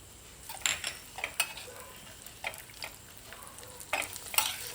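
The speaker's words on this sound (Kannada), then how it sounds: "ತುಪ್ಪ ಬಿಸಿ ಆದಾಗ ಸ್ವಲ್ಪ ಗೋಡಂಬಿ ಪೀಸನ್ನು ಹಾಕಿ ಫ್ರೈ ಮಾಡ್ತೀನಿ." Cashew pieces and raisins frying in hot ghee, with a soft steady sizzle under repeated scraping stirs of a spoon against the pan, close by and fairly quiet.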